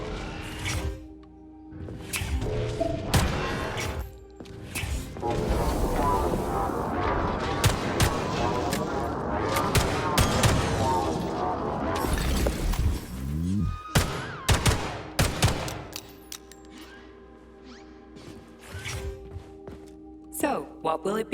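Gunfire in the shooter game Atomic Heart comes as scattered sharp shots and a dense burst of firing, mixed with game effects and someone talking over the action.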